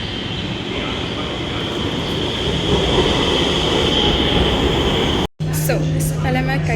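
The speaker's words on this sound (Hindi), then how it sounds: "अभी मैं कल्याणपुर मेट्रो स्टेशन आ चुकी हूँ और हमारी ट्रेन भी आ चुकी है।" Metro train at Kalyanpur metro station, a loud steady rumble of the arriving train filling the platform, then a brief cut to a quieter hum with a high tonal whine.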